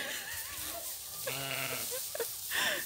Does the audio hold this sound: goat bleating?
yes